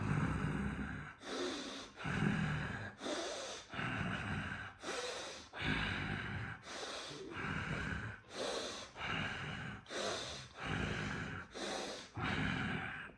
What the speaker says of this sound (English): Breathe in through your right nose, out to the left.